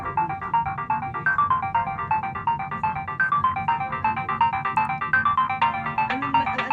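A mobile phone ringtone plays alone, a repeating bright melodic pattern looping steadily at moderate volume throughout.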